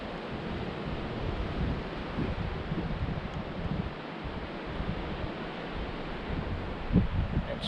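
Steady wind buffeting at a sunny clifftop lookout on the coast at Cape Hauy, a constant breezy rush with dull gusts and no talking.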